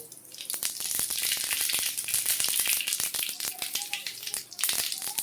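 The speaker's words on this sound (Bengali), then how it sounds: "এখন কালো জিরে সাদা জিরে একসঙ্গে আমি ফোড়ন দেব" Black and white cumin seeds with dried red chillies tempering in hot oil give off a dense, continuous sizzle peppered with rapid sharp crackles and pops, close and steady throughout.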